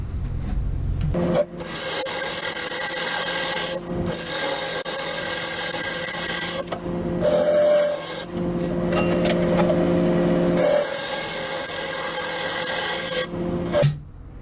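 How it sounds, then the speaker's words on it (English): A hand tool scrapes and rasps steadily across end-grain wood while carving a cutting-board bowl, long continuous gritty strokes broken by brief pauses, loud and close with no talking. "It's hard to hold on to the tool in this end grain."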